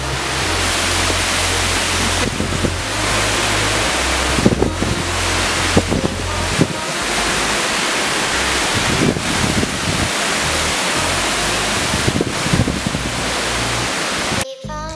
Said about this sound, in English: Found another waterfall.